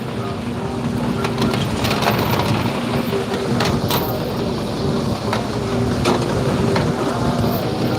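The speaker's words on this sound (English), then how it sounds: "The wind's coming in this way at the moment" Wind gusting steadily over open ocean around a small fishing boat anchored near a buoy, a constant loud rushing roar with microphone buffeting and faint water movement, no talking.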